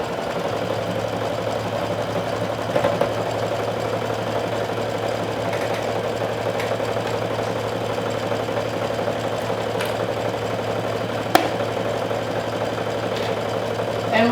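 A home sewing machine runs continuously on a long basting stitch while a dress is sewn, a fast, even mechanical whir with a rapid needle rhythm and a few faint clicks, steady throughout with no talking.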